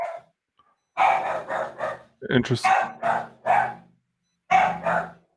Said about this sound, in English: My dog going wild.